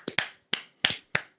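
Sharp, close hand claps land in an uneven run of five quick smacks, each cracking cleanly with no voices over them.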